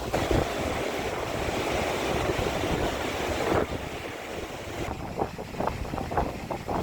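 Sea waves roll onto the shore at Digha beach, a loud broad wash of surf mixed with wind buffeting the microphone, then quieter stretches broken by repeated gusts and splashes.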